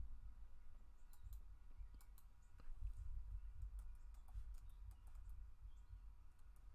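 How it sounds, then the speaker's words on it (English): Light, scattered clicks of typing on a computer keyboard, faint and close, over a low steady hum, with short gaps between keystrokes and no talking. "I'm trying to type that in."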